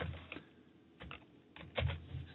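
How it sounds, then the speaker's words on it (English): Soft computer keyboard typing at a workstation, a few quiet clusters of key taps separated by short pauses, close but faint with no talking. "you can simply start typing in the name"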